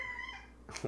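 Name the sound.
cat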